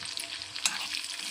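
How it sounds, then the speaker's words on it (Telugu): Curry leaves and garlic sizzle and crackle in hot oil as they are stirred, a steady close hiss with one sharper pop midway, no voices. "కరివేపాకు, తెల్లగడ్డలు, కరివేపాకు మొత్తం వేసి"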